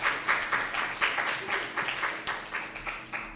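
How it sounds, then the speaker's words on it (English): Spectators at a debate quarter-final applaud both teams, with the claps bunching into a loosely rhythmic pulse of bursts that holds fairly even for a few seconds. "we want, first of all, to invite a round of applause for both teams."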